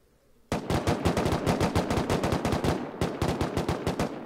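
An automated gun turret in the video game Rust fires long rapid bursts of gunshots, loud and close, with a brief pause partway through.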